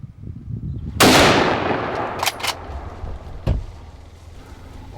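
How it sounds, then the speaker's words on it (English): A single loud rifle shot cracks out at a wild boar during a driven hunt in France, followed by a long decaying echo, with a couple of fainter reports and a dull thump trailing after. "I picked a nice shot on what looked like a decent sized boar."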